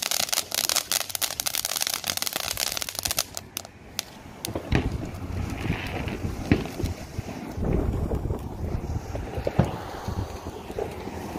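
Strong wind blows outdoors at a Fourth of July gathering, a loud, continuous rushing buffet across the microphone with gusty surges and bursts throughout.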